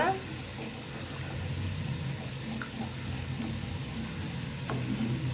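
Creamy white pasta sauce simmering in a pan while being stirred, a soft continuous bubbling and sizzling hiss with faint scraping, close and steady with no talk.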